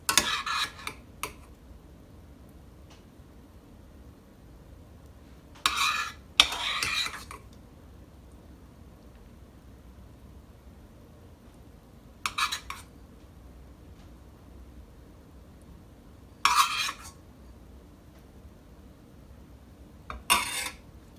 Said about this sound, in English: I'm going to start by placing about 1 spoonful of my apple mixture onto each of my dough sheets